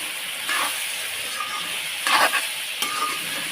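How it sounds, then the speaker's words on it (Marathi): Vegetables with salt and turmeric sizzle steadily in a hot pan, with a few louder bursts as they are stirred and tossed. The hiss is close and unbroken, with no voices. "तर असं मी परतून घेते"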